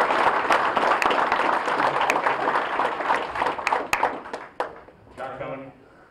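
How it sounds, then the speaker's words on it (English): Audience applauding a volunteer fire company at an evening gathering, dense clapping that thins out and fades over several seconds as a voice begins to speak. "Give these guys a big applause."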